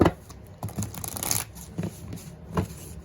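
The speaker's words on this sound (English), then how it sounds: "2 more shuffles" Playing cards are shuffled up close in a few quick riffling bursts, with soft handling noises between them.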